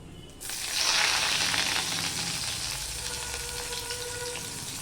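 Onion drops into hot oil in a frying pan while making pumpkin greens, a sudden burst of sizzling that swells quickly and then holds as a steady crackling hiss, close by with no speech.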